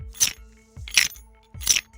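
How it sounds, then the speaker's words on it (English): Scrap Baby's random clicks from the FNAF game: three sharp metallic clicks at an even pace, each with a low thump, set against a faint steady hum. "Scrap Baby has random clicks as heard here"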